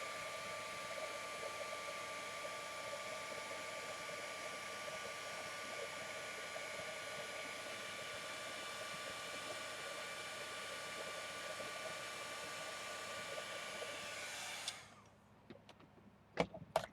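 Heat tool blowing steadily while melting black embossing powder, a close continuous whooshing hum that holds for about fifteen seconds, then cuts off, followed by a few faint handling clicks.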